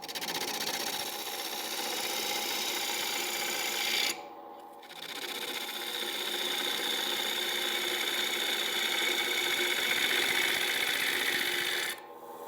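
A wood lathe spins a firewood bowl blank while a gouge cuts a chamfer near its bottom, giving a steady, loud scraping rasp that drops out briefly twice as the tool lifts, then resumes.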